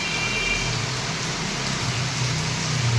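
Wind-driven rain falls without a pause in a dense, steady wash of noise, with a low rumble underneath and no voices.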